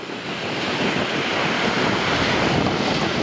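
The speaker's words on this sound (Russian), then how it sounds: "Море штормит." Stormy Black Sea surf at Gelendzhik during a cyclone crashes and washes onto the shore in a loud, continuous roar, mixed with heavy wind buffeting the microphone and no voices.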